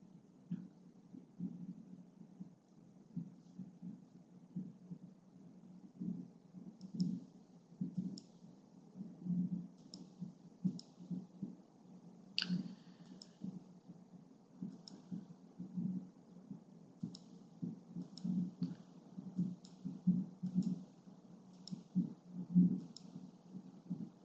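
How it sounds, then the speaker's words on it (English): Faint, scattered keyboard clicks come from someone typing during an online webinar. Soft individual keystrokes sound at irregular intervals over a low, rhythmic background rumble. "while Becky is typing"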